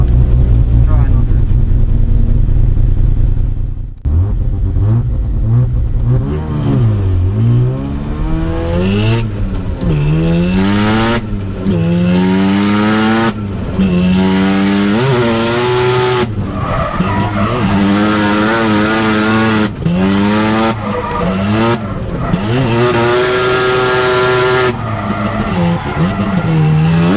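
Drift car at a D1 divisional event on the YZ East course, engine loud and close with rising and falling revs, gear shifts and squealing tires as it slides through the corners, some voices mixed underneath.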